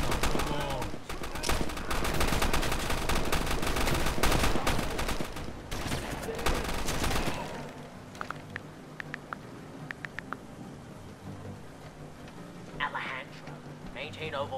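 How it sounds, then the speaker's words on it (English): A gunfight in Call of Duty: Modern Warfare II, with dense, loud bursts of automatic gunfire for several seconds, then thinning to scattered single shots and quieter battle noise. "Let's have ourselves a gunfight!"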